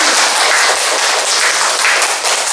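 Classroom group of students applauding together, dense loud clapping throughout, close and continuous with no talk over it.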